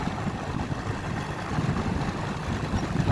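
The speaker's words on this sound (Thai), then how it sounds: "ได้ยินในเสียงรถ" A car engine running steadily, a low rumbling drone with a slight rise in intensity partway through, fairly close and continuous, with no speech over it.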